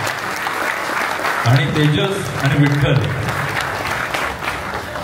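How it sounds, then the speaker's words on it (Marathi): A crowd at a Malvani family honour ceremony and inauguration event claps steadily through the whole stretch, while someone speaks over the applause in the middle. "जोरदार आणि खणखणीत मनापासून टाळी वाजवा"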